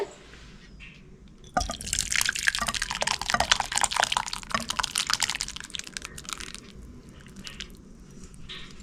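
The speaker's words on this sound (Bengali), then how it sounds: "চিকেন স্যুপটা আমি ঢেলে নিচ্ছি একটা বাটিতে" Chicken soup is poured into a bowl, giving a splashing, trickling liquid sound that starts suddenly, runs for several seconds, then thins to drips and faint clinks in a quiet kitchen.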